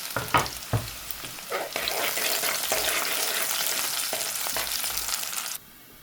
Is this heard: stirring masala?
yes